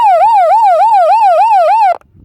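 A loud, close electronic siren from a Degen DE13 emergency radio wails rapidly up and down in a steady cycle for about two seconds before cutting off abruptly.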